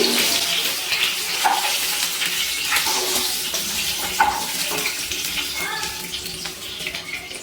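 Eggs fried red-brown in hot oil sizzle with a steady, bright crackling hiss while they are lifted out of the pan, with small clinks and stirring scrapes scattered through.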